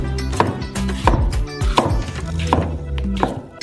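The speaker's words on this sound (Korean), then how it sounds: "순수한 멜론 과육을 썰어주세요." A series of dull, wet thunks as a knife slices peeled melon flesh on a board, about five evenly spaced chops with a faint clink.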